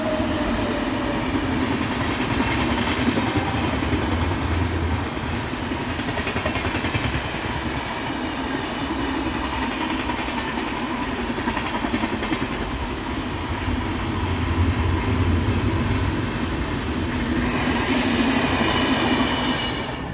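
A train passes near a home in Kerala with a continuous loud rumble and wheel clatter. The noise swells and eases over about twenty seconds, with a higher rushing hiss rising near the end.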